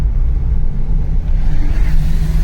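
Toyota Celica driving, a steady low engine rumble and road noise heard from inside the car, loud and continuous with slight swells.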